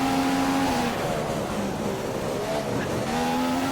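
Ferrari race car in a racing video game on the Canadian Grand Prix circuit, its engine droning loud and steady with shifting pitch as it passes, no talk.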